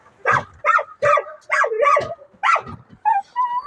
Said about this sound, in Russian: щенок.